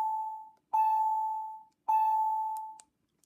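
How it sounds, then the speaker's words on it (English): Two soft, steady electronic timer alert tones from an Aerovonics AV-20 avionics unit through the audio panel, each held about a second with a short gap between, clean and close, followed by a faint click. "A nice little soft tone that can be configured into your audio panel"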